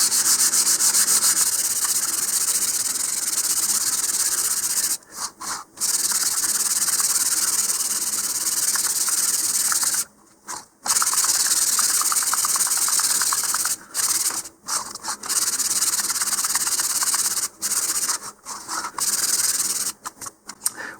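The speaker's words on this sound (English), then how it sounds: "We're just using some very fine sandpaper here to give us a smooth start." Very fine sandpaper rubs over model rocket fins in long, steady scratchy strokes, broken by a few short pauses, close and fairly loud with no talking.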